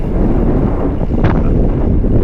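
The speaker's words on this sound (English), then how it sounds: "It's still very windy" Strong coastal wind buffeting a microphone on a Cornish bikepacking ride, a loud continuous low roar with gusty surges and no speech.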